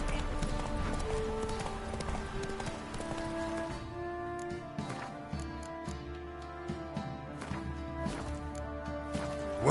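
Roach the horse trotting in a video game, hooves clip-clopping in a steady rhythm against sustained tonal background music, moderately quiet throughout.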